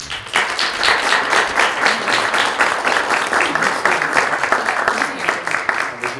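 Applause for a high school girls basketball player at her college signing press conference, a room of people clapping steadily and fairly loudly throughout with some faint voices mixed in.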